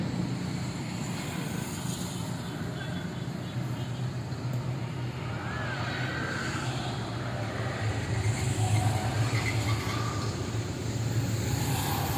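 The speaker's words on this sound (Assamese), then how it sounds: "তলেদি ট্ৰেইন গৈছে দেখিবলৈ নাপাম আমি ওপৰত আছোঁ ট্ৰেইনৰ আৱাজ আহি আছে" A train runs beneath the Saraighat bridge in Guwahati, heard from the road deck above as a steady, distant low rumble blended with traffic noise, with a faint voice over it.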